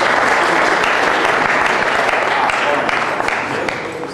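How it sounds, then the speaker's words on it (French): An audience at a sports talent awards ceremony applauds a former champion with steady, loud clapping that holds evenly before fading gently at the close. "On peut applaudir, hein?"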